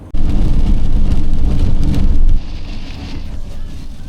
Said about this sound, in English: Little rain teaser for the first thing in the morning.